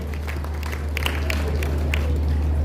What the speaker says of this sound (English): Please a big round of applause for him as he steps on the high table